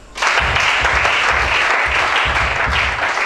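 A congregation at a church worship service breaks into loud, sustained applause, dense clapping that begins abruptly and carries on steadily.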